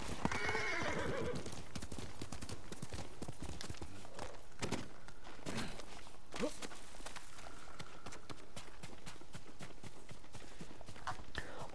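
A horse in the Ghost of Tsushima video game trots with rhythmic clip-clop hooves throughout, a loud whinny near the start, and brief bursts of player speech over the steady hoofbeats.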